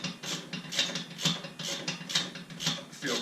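Rapid ratchet clicking drives bolts on a GoRhino spare tire relocation bracket for a Jeep Wrangler JL, in repeated bursts of fine, crisp clicks, close and steady.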